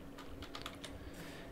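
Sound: typing on a computer keyboard

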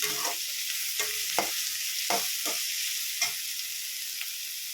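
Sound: onions sautéing in oil for tomato thokku

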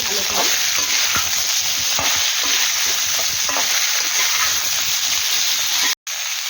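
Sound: stirring and frying ridge gourd stems in a pan

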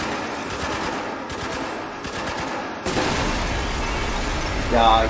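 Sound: gunfire in the video game Spec Ops: The Line

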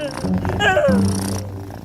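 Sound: kitten purring

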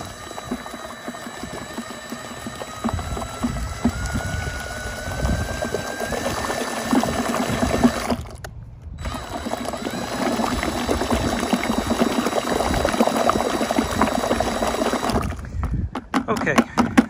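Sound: mixing leftover skim coat compound from a 20-minute bag

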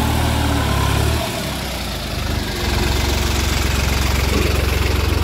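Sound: New Holland 5620 tractor engine running at about 1500-1600 rpm

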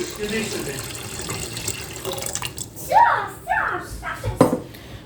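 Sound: pouring salted water into multicooker

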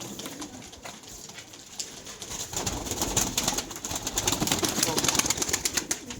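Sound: pigeons cooing

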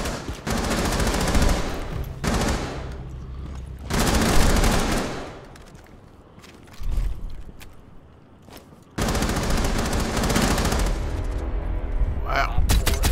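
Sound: gunfire in video game Rainbow Six Siege

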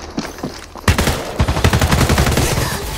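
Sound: gunfire in the video game Apex Legends

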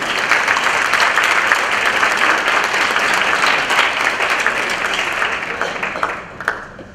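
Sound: audience applause at teacher recognition ceremony

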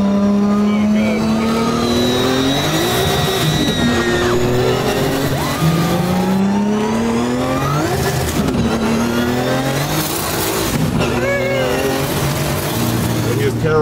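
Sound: Nissan Skyline R34 GT-R engine revving and driving

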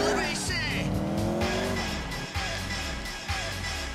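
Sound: car driving with tire squeal in the video game GTA IV

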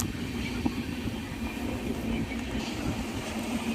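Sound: passenger train running

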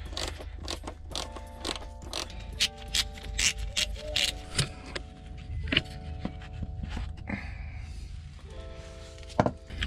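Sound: ratchet removing turbo pipe bolts on Ford Mondeo Mk4

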